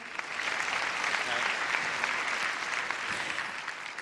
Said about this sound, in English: Round of applause for Stanley Reynolds and John Ratcliffe.